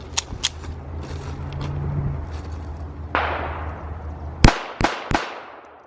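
A Baby Rock .380 ACP 1911 pistol fires a few sharp, loud shots at close range. They come in a quick, uneven series near the end after scattered earlier clicks and a rising hiss, with no talking.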